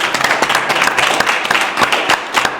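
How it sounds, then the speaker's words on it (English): Boxing press conference crowd giving a round of applause, a dense continuous burst of many hands clapping close and loud, with no voices on top. "Yeah, let's get a round of applause, everybody."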